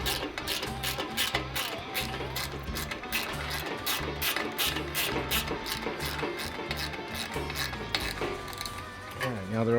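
A ratcheting wrench snugs the license plate bolts on a motorcycle fender, a continuous close run of fast clicking ratchet pawls with metallic rattles, fairly loud and steady from start to finish.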